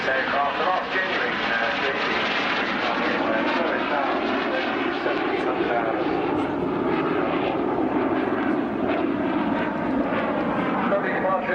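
A classic jet aircraft roars steadily overhead at an air show, a loud continuous engine rumble with an announcer commentating over it.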